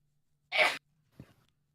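A single sharp sneeze bursts out in a quiet room, followed by a brief softer exhale.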